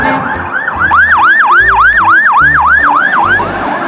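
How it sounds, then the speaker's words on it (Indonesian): A toy fire truck siren wails in a steady, loud rising-and-falling cycle, about nine sweeps in four seconds, with low blocky electronic tones pulsing underneath. "Wow, mobil pemadam kebakaran."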